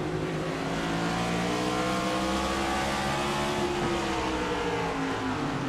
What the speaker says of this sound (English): Car just steps out under braking. Gasses it up to flip it around.